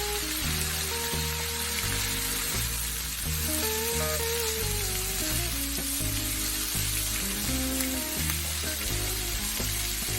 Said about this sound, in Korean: 여기에 준비해둔 채소를 모두 넣고 중강불에서 볶습니다